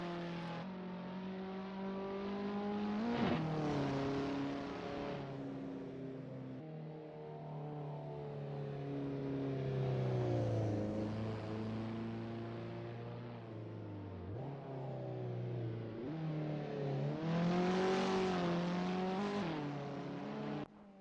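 Race car engines in Assetto Corsa, Caterham cars warming up at Tocancipá, droning and revving with pitch rising and falling over and over, loud and continuous, no voices.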